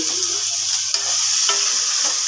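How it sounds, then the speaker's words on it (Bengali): Finely chopped onions fry in hot oil after a cumin tempering: a loud, close, continuous sizzle with light scraping stirs now and then. "পেঁয়াজগুলো পুরো লাল লাল করে আগে ভেজে নেব।"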